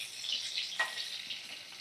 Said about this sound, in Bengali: এইভাবে ভাজা করে নিচ্ছি